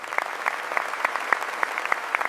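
Applause from a group of people: a run of sharp, fairly close claps in an uneven rhythm over a steady hiss.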